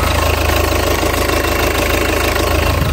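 A Peugeot 406 Coupé with 292,000 km runs at idle, a loud, steady close-up engine drone with a regular low pulsing throb throughout.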